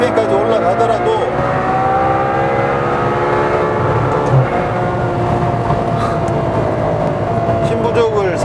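A Ferrari 812 Superfast's naturally aspirated engine revs high toward 8,900 rpm, a loud, sustained rising wail heard steadily from inside the car with a voice talking over it.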